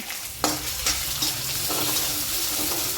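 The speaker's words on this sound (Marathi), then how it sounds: "आपण कांदा छान परतून घ्यायचा आहे दोन चार आपण असे थोडेसे एक चमचा शेंगदाण टाकायचे" Steady sizzling of onion and peanuts frying in oil, with a few sharp stirring clatters over the crackle; no one speaks.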